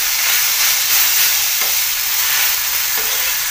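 Prawns and green chili thecha sizzle loudly in a pan, a dense, steady frying hiss with a couple of soft stirring scrapes.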